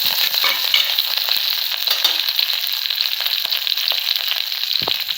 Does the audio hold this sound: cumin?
yes